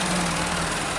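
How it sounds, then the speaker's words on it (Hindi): Tractors and an excavator run together at a building plot, making a loud, continuous low engine rumble with a steady drone and no talk over it. "मेरे दोनों तरफ से ट्रैक्टर ही ट्रैक्टर चल रहे हैं।"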